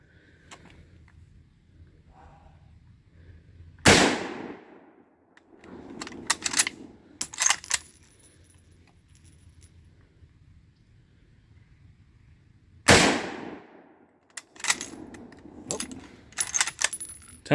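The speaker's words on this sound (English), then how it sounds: "Here's Cody taking 3 shots with the Mosin." Three sharp, loud gunshots from a Mosin-Nagant rifle fired outdoors, spaced several seconds apart, each followed by rattling bolt-action clatter and metallic handling noise.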